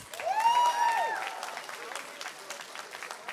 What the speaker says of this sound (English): let's give one more round of applause for all of our candidates